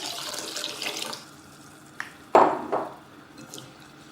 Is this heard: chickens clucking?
no